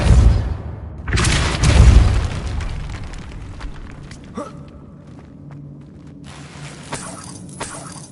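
A Depulso spell from Hogwarts Legacy goes off in a burst of booming, shattering impact noise with a rumbling tail, followed by quieter game ambience and a few small clicks and thuds.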